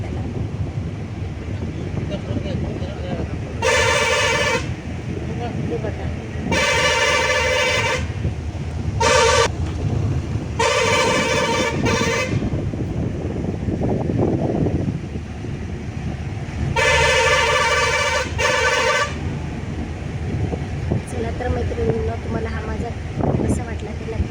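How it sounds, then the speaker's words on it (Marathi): Loud vehicle horns blare in repeated blasts, some long and some short, over rumbling road and engine noise on a single-lane mountain road between Lumbini and Pokhara, with a couple of close honks near the end. "येणाऱ्या जाणाऱ्या गाड्यांसाठी तो हॉर्न वाजवा लागतो"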